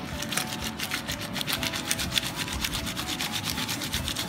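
Ingredients being dry-roasted in a pan while preparing Lao bamboo shoot curry, with a steady rhythmic scraping and rubbing of a utensil stirring against the pan, fairly close and continuous.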